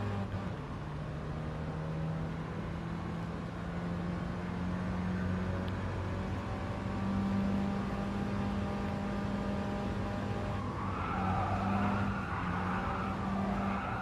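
A Lamborghini Countach races in a 50s–70s era event in Gran Turismo Sport. Its engine drones steadily as it revs up and down, with occasional tyre squeal, and no one speaks.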